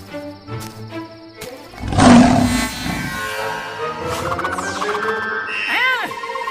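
Cartoon lion and bear roar loudly in a Motu Patlu animated scene, a burst of growling roars mixed with music and sound effects, with voices briefly present.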